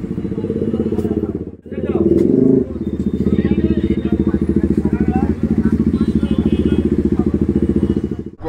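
A Yamaha MT-15 motorcycle fitted with a loud aftermarket silencer idles and revs with a rapid, steady popping exhaust pulse, close and loud. There is a short dip and a rev burst early on, and people talk over it.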